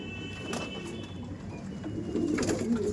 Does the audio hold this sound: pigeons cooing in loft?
yes